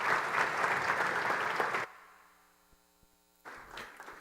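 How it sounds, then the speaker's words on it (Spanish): Audience applause welcoming a speaker onto a stage, a dense round of clapping that stops abruptly, leaving a low electrical hum before a brief rustle and a few more claps. "Un aplauso, por favor."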